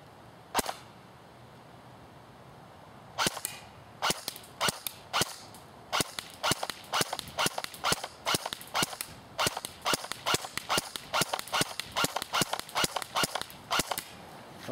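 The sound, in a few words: AGM MP40 airsoft AEG firing semi-automatic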